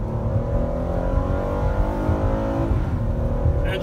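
A 2013 Ford Explorer ex-police vehicle engine idles and revs nearby, producing a loud, steady rumbling drone with rising and falling pitch.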